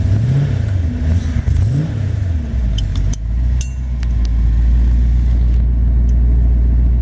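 A 1932 Ford Roadster's engine revs up with a few rising pulls, then settles into a steady, loud, low rumble, heard close from inside the car with light clicks on top.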